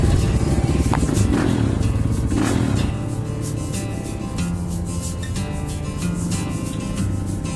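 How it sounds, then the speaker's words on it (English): A 2017 KTM EXC 500 dirt bike being ridden, its engine a steady, loud, rough drone with clattering and rumbling, heavier in the first few seconds and then continuing at a slightly lower level. "This is Nick on his 17 KTM EXC"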